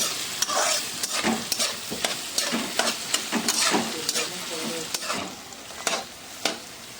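Paneer and vegetables fry over a high flame, a bright sizzle broken by repeated scraping and tossing strokes of a spatula against the pan at an irregular rhythm, with no speech.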